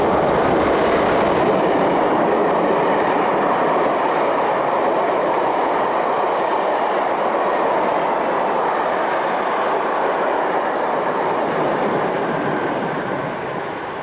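A green-liveried Swiss Class 620 Re6/6 electric locomotive hauls passenger stock on the Gotthard mainline, giving a steady, loud rumbling roll with faint wheel clatter that holds for the whole stretch and eases slightly at the end.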